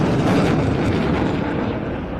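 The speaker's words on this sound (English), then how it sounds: "the max rate turn as Turbo pulls the aircraft hard around again, loading up to 9G" Aerobatic jet aircraft pulling hard through a 9G maximum-rate turn at an air show, a loud, continuous broadband jet roar that stays steady and dense, easing slightly toward the end.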